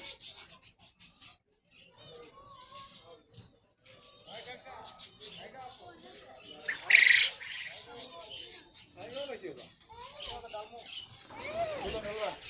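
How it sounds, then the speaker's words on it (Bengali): Small birds chirping in trees at a zoo in Saudi Arabia, bright repeated tweets and squawks scattered through the scene while a person talks over them, fairly close. "এখানে ছোট ছোট পাখি আছে গাছে"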